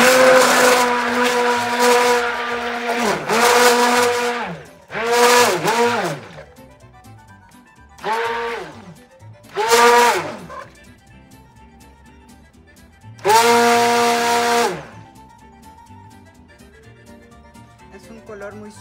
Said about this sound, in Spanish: Entonces voy a agregar la espirulina. Y voy a seguir batiendo.